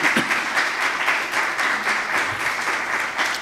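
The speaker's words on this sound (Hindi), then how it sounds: "Can you clap for Jesus if you are happy?" A church congregation clapping for Jesus: sustained applause from a crowd, dense and fairly loud, a steady wash of many hands that continues without pause.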